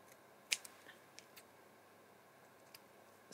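Scissors trim paper peel-off stickers in a quiet room: a few faint, crisp snips and small clicks scattered over a few seconds, close by, with no talk.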